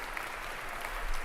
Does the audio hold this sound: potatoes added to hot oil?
no